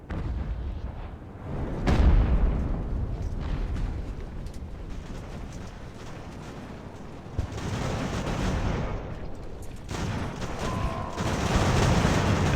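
Battle gunfire in the naval and land strategy game Ultimate Admiral: Age of Sail: a steady rumble of cannon and musket volleys, with a sharp heavy blast near the start and dense continuous firing throughout.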